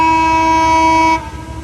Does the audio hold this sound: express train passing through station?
yes